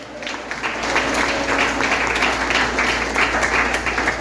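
A church congregation at a family worship service breaks into loud, sustained applause, dense clapping filling the room evenly for several seconds.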